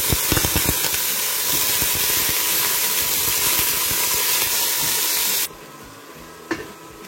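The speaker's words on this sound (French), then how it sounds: "on va juste laisser griller la viande hachée comme ceci, tranquillement dans la marmite" Ground beef sizzling steadily in a pot for a tomato meat sauce, a dense, loud hiss with light stirring scrapes early on, dropping abruptly to a quieter hiss near the end.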